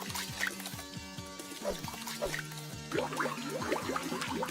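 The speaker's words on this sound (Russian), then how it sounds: "Шланг наш с водой." Water running from a hose onto a toy truck being washed, a continuous trickling and splashing with small drips and gurgles, close and fairly quiet throughout.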